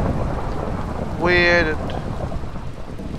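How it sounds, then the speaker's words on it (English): Steady rain and rumbling thunder in the horror game Bendy and the Ink Machine, a continuous broad wash under someone speaking briefly in the middle. "the rain and thunder does not help"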